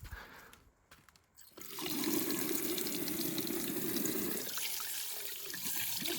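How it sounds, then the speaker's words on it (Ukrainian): Water pours steadily from an outdoor summer shower, a broad continuous hiss that starts abruptly after a brief quiet stretch and runs on close and loud before easing slightly near the end. "А, ну і водичку зараз включу, покажу,"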